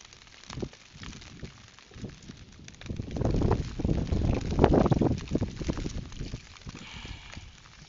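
Wind gusting over the water at night on a fishing boat near Capones Island, a broad, rushing roar that swells in the middle of the clip and then eases, loud against the microphone with no one talking.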